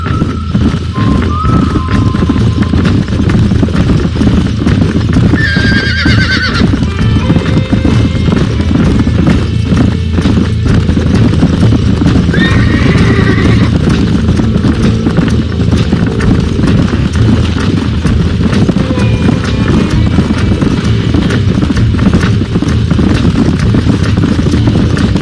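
Video game horses in Red Dead Redemption: steady clip-clop hoofbeats at a walk over a constant outdoor ambience, with a couple of brief whinnies and snorts breaking through.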